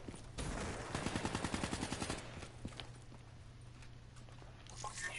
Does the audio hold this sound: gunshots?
yes